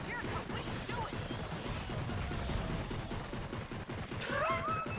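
Handgun gunfire in the video game Darkwatch, a dense run of rapid shots and impacts mixed with game noise and a voice, continuous and close throughout.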